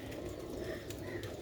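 Sialkoti pigeons give soft, low cooing with a few faint calls. The sound is quiet and near, with no talk over it.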